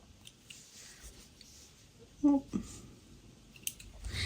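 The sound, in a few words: scissors trimming thread after sewing a snap pouch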